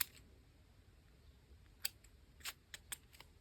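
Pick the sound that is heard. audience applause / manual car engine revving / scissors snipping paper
scissors snipping paper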